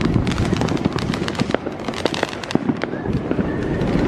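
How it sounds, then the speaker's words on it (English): Fireworks at an Old Town Independence Day celebration crackle and pop in dense, rapid bursts, loud and continuous like firecracker volleys, with faint crowd sounds beneath. "Old Town fireworks."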